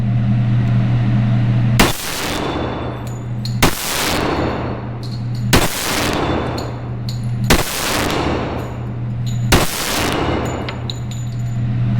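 Five loud, sharp pistol shots from a Kimber Pro Carry 2 1911, fired outdoors at steel plate targets, spaced about two seconds apart, each followed by a ringing decay over a steady low hum.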